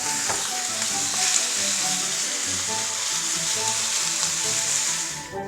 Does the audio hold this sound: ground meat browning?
yes